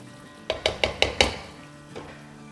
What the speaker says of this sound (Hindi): एक दफ़ा चला देते हैं चम्मच